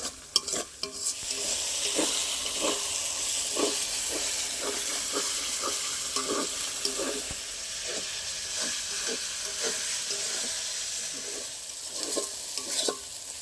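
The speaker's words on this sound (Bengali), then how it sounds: "একসাথে আরও ভালো করে কষিয়ে নেবো তেল ছেড়ে দেওয়া পর্যন্ত" Masala for paneer curry sizzling and frying in oil in a pan, a steady bright hiss broken by regular scraping stirs roughly every half second, close and continuous with no talk.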